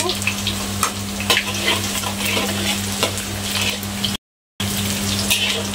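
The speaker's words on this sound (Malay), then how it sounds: "Kita masukkan bawang putih tadi yang dah dihiris tu." Sliced garlic sizzles steadily in a hot pan, giving a close, continuous frying hiss with stirring crackles throughout and a brief break near the end, with a low steady hum underneath.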